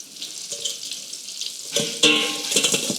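Paneer fries in hot oil with a steady, close sizzle and crackle, brief scrapes and clinks of a utensil lifting the pieces, with no talking.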